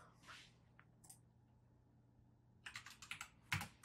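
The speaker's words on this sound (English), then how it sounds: "Sorry if you hear me typing in the background." Faint computer keyboard typing in a quiet room, a couple of isolated key taps followed by a short quick run of clicks and one louder final stroke.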